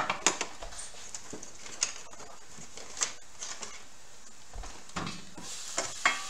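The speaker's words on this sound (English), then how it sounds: "Okay, the onions are starting to grill." Onions sizzle in a pan while grilling, a steady soft frying hiss broken by occasional sharp clicks and stirring taps.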